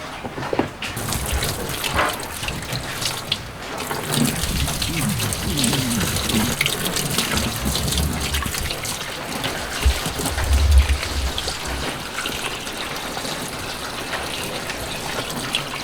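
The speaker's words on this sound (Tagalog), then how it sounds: "So, banlawan muna natin to ng tubig." Water gushes and splashes steadily into a washing machine tub as it is rinsed, a continuous rushing pour with a faint voice underneath.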